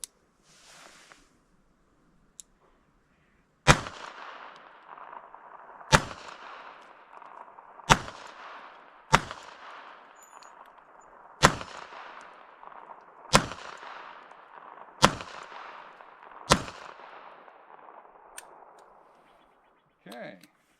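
Beretta Tomcat pistol fired at metal targets on a hill: eight sharp shots spaced about two seconds apart, each followed by an echoing ring and clang, with quieter handling noises before and after.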